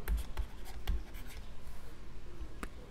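Pen or marker writing out a math question for a class X linear equations exercise, a steady scratchy stroking texture with a few sharper taps, close and alone without talk.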